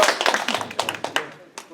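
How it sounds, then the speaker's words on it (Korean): Church Bible-study audience giving a short round of clapping, scattered claps at moderate distance with a voice speaking over parts of it. "박수가 나와야겠습니다."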